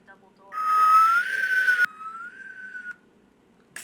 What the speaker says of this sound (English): There was a low whistle of air once more, but this time it was rushing inwards through the crack between the double doors.